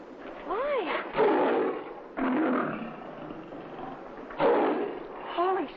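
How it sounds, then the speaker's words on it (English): A caged lion lets out several loud, rough roars in separate bursts with pauses between them, and voices can be heard around them. "Lion?"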